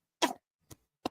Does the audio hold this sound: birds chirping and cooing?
no